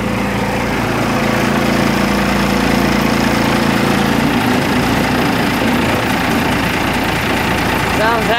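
A 1988 Blue Bird International S1800 school bus engine idles roughly after a cold start, a loud steady diesel rumble with knocking, a voice speaking briefly over it.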